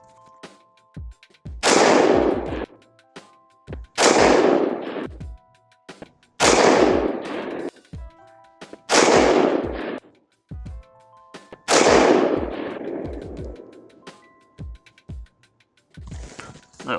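An AR-15 designated marksman rifle fires 73 grain .223 rounds: five loud, sharp shots about two seconds apart, each followed by a long rolling echo across an outdoor range.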